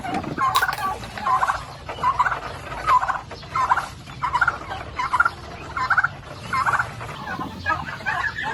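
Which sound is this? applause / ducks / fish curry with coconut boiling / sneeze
ducks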